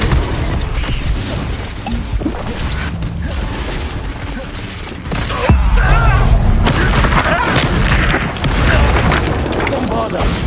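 In Hogwarts Legacy combat, Confringo spells burst in heavy booming explosions with crashing, creaking debris. The loud rumble builds again midway, and game voices are heard alongside it.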